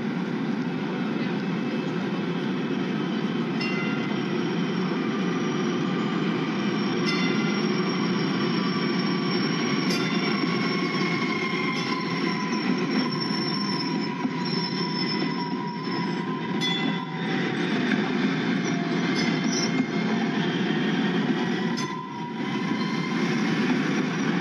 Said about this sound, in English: Now let's watch a video of a DART rail train.